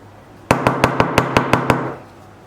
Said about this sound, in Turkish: birkaç kere tezgahın üzerine vuruyorum